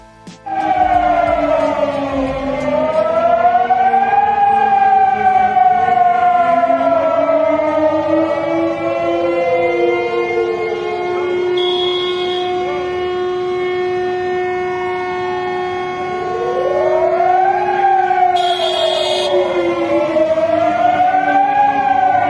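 Civil defense sirens wail across Mitrovica in northern Kosovo, a loud sustained rising and falling tone with several overlapping sirens sweeping in pitch, continuous for the whole stretch with no voices.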